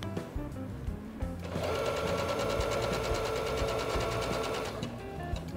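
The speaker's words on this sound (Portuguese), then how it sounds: "E vou passar uma costura reta. Sempre com o tecido pra fora da máquina," Sewing machine running a straight seam through fabric, a steady fast mechanical whir and rapid stitching chatter lasting about three seconds after a few quiet handling clicks, then stopping, with no talking.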